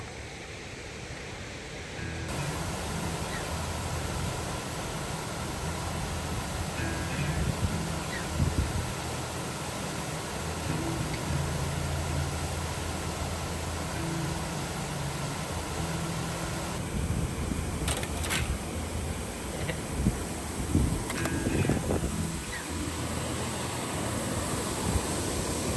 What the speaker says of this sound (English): Oh, you hear that? The waterfall's flowing.